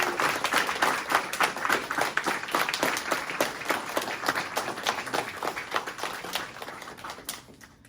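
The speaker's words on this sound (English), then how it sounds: "Let's have a round of applause for everyone." A group claps steadily in a round of applause at a kung fu gathering. The clapping is dense and continuous and fades slightly near the end.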